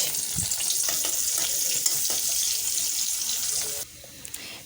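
Onions dropped into hot oil in a wok, a loud, steady close-up sizzle and hiss that continues for several seconds before dropping abruptly to a quieter crackle near the end.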